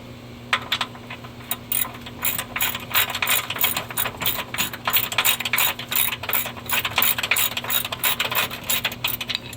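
A ratchet tightens transmission mount bolts on a 2013-2017 Hyundai Veloster 1.6L with a dual clutch transmission, giving close, steady strings of rapid metallic clicks in short repeated bursts.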